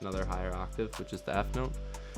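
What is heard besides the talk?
No everyday noise stands out behind the speech.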